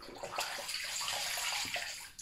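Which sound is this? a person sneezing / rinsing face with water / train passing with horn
rinsing face with water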